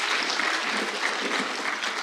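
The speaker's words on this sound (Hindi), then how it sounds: "जोरदार तालियों से उनका इस्तकबाल किया जाए।" Sustained, dense applause from an audience at a 2024 Urdu poetry mushaira in Dubai welcomes a poet to the stage, steady and fairly loud throughout with no voices on top.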